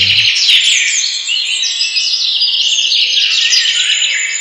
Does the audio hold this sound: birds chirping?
yes